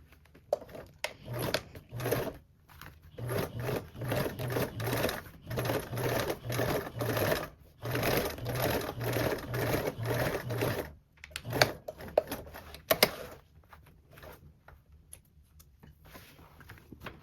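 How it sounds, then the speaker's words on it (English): A sewing machine top stitches along a base with a 1/8 seam allowance, running in several bursts of rapid, even needle chatter separated by short pauses, then falling quiet near the end. "top stitch along your base with a 1/8 seam allowance"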